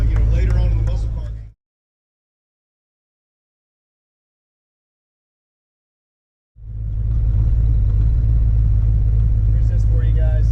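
Rare Mercury Cougar Eliminator muscle car engine, a deep, loud rumble that cuts out into several seconds of total silence, then returns as a steady, rowdy low growl.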